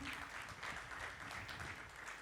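Audience at a formal gathering applauds a guest of honour with a continuous, even clatter of many hands, quiet and somewhat distant throughout.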